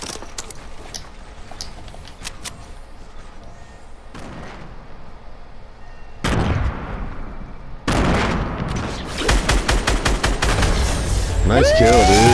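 Shotgun blasts in a shooter video game, a grapple-and-shotgun combo, firing as a loud, dense stretch of repeated booming shots and crashes that grows heavier toward the end, with no voices over it.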